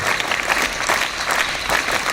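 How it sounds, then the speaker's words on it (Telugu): An audience at a school Constitution Day event claps for someone speaker, dense steady applause, close and even throughout, with no speech over it. "హార్ట్ఫుల్గా చప్పట్లు కొట్టండి."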